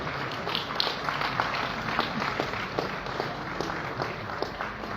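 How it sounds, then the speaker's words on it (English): An audience at an award and recognition ceremony at Aso Villa claps continuously, a dense, even wash of many hands with no break, steady in loudness throughout. "Please keep clapping until she sits down."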